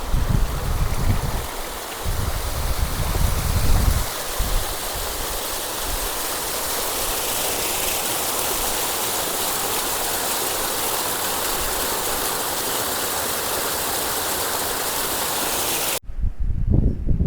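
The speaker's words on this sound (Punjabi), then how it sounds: "ਪਾਣੀ ਨੈਚੁਰਲ ਸੋਰਸ ਨੈਚੁਰਲ ਸੋਰਸ ਦਾ ਨੈਚੁਰਲ ਸਾਊਂਡ ਮੈਂ ਤੁਹਾਨੂੰ ਸੁਣਾਣਾ" A natural mountain stream near Brighu Lake flows steadily and close by, a loud, continuous broadband rush of water that runs unbroken before cutting off sharply near the end.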